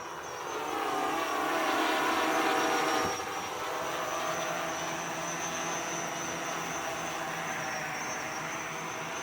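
A hexacopter drone with a heavy battery hovers in the air. Its rotors make a steady, fairly loud droning whine that holds throughout, swelling slightly in the first few seconds.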